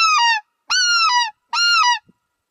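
A goose call blown in three loud, close honks, each a drawn-out two-tone goose note separated by short pauses, with no talking over it.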